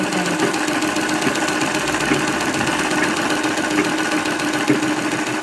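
A domestic sewing machine runs steadily while stitching long straight seams in fabric during a beginner tailoring lesson, giving a close, continuous mechanical whir with a fast rhythmic rattle and no speech.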